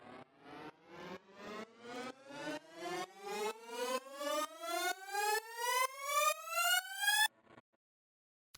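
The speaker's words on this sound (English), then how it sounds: "The next sound I have here is the second riser" Synthesized riser built from two square waves through grain delay: a train of rapid pulsed bursts whose harmonics steadily sweep upward over about seven seconds, growing slightly louder, then cutting off abruptly into silence.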